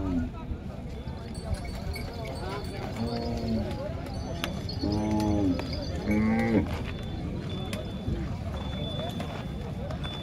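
Bulls at the Kamatha bull market in Maharashtra give several loud, drawn-out moos over a busy outdoor crowd murmur, with hoof clops and people talking nearby.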